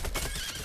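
A horse neighs and its hooves clip-clop during a riding battle in a video game, loud and close over a dense, busy game soundscape in a brief burst.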